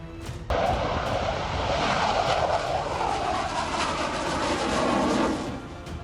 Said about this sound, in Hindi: तेजस MK-1A की उड़ान, हिंद के दुश्मन परेशान।